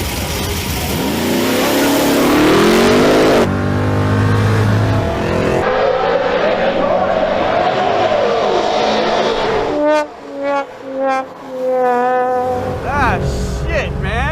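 A Chevy Caprice 9C1 launches off the line in a drag race, its engine revving loud and climbing steadily in pitch as it accelerates. The roar then drops away and voices break in near the end.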